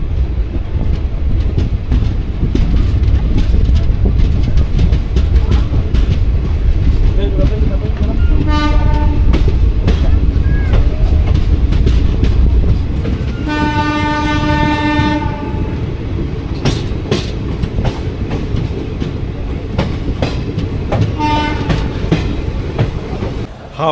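The Bagh Express rolls along after leaving Bonkata station, with loud, steady rumble and clatter of the wheels and several long horn blasts, close and continuous.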